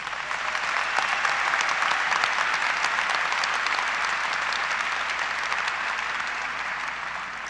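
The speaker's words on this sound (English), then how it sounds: "Please join me in applauding the efforts of our magna cum laude graduates." Sustained applause from a large graduation audience at a 2021 high school commencement, honoring magna cum laude graduates; steady, dense clapping from a big crowd that holds evenly throughout without any talking.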